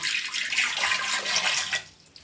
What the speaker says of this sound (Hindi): इसमें हम डालेंगे 1 गिलास जितना पानी।